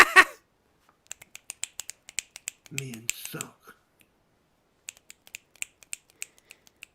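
Sharp finger snaps given as applause for a short poem, a quick run of crisp clicks at first, then a pause and a second scattered series, with a brief spoken remark and some noise in between.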